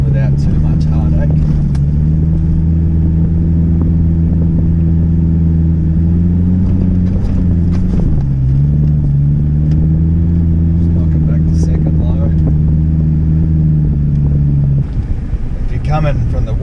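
A 4WD on lowered tyres crawls up a Simpson Desert sand dune, its engine a loud, steady low drone that dips briefly and then keeps labouring before cutting off near the end.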